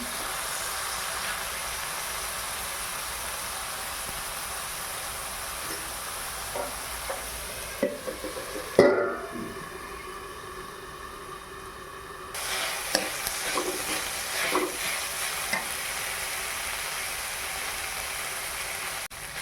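Cowpea leaves and toor dal sautéing in a pan, a steady broadband sizzle with scraping stir strokes and clatter running throughout, briefly dropping quieter midway before the stirring picks up again.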